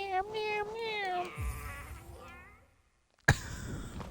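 A small creature in the video game Hollow Knight gives a run of high, wavering meows up close, then a short silence and a sharp burst of game sound.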